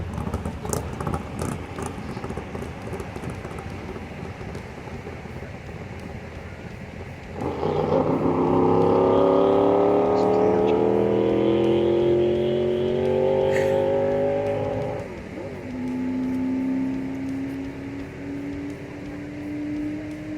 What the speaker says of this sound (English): the Studebaker going for a run.